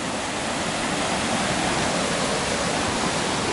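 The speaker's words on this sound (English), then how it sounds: "This is the river down here." River water rushing steadily, a dense continuous roar that stays loud and unchanging throughout, close by and with no voices over it.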